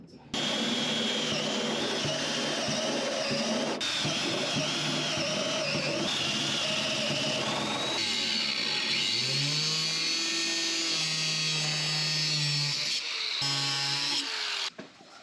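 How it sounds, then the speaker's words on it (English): A power drill fitted with an old step bit bores into metal while a Baja Bug is being built, a loud, close, steady whine with pitch shifts as the load changes, running almost throughout. "I'm going to use this nice old step bit."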